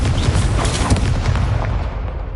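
A Confringo spell blast in a wizarding video game, with a loud, booming explosion that rumbles on and fills the whole moment, then fades out at the end.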